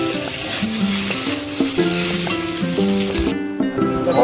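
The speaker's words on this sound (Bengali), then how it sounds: "একসঙ্গে মিশিয়ে ভাজা করে দেবো।" Ingredients for pasta sizzle and fry in a pan while being stirred, with a continuous crackling hiss and scattered clinks of a utensil against the pan, close and steady.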